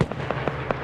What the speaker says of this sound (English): Now you're having flak fire actually doing some damage.